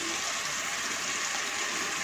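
A little water is poured into a cooking pan of tomatoes and okra, giving a continuous rushing, splashing pour that lasts the whole moment and is heard alone at moderate volume.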